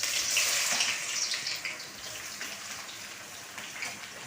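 Chopped onion hits hot oil in a wok and sizzles as a bright, steady hiss. It is loudest at first and then eases into a softer, even crackle.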